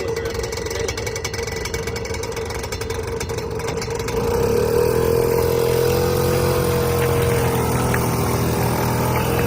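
A diesel pusher motorhome's engine runs with a low, steady rumble that grows noticeably louder and fuller partway through, then holds at that level.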